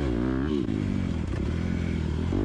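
Motocross motorcycle at a Maricourt track throttling up, a loud, close engine roar whose pitch dips and then climbs steadily as the gas is opened, with no talk over it.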